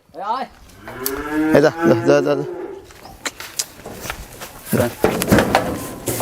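A heifer on a dairy farm moos loudly and close by, a long drawn-out low call, followed by shuffling, other noises and people talking.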